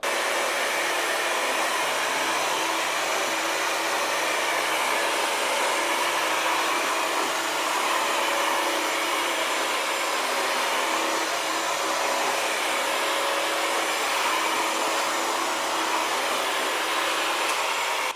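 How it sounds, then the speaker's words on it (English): A steady, loud machine whoosh and hum runs unbroken throughout, a wet dry floor vacuum (Bissell CrossWave HydroSteam or Tineco iFLOOR 3 Breeze) running in steam mode, with no voices. "let's go ahead and try this wet dry vacuum out on the steam mode"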